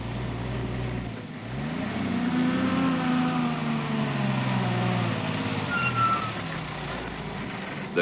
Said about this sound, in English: The trucks are halted in cover at the off-carrier position